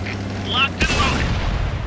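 Vehicle cannon fire striking a target in a video game, a single sharp boom with a crackling impact tail, heard over steady low engine rumble and game voices.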